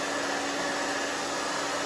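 A hair dryer blows steadily on hair in a salon styling session, a loud, even rushing whoosh with no talking.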